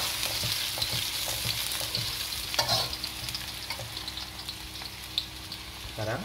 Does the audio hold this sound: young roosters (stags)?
no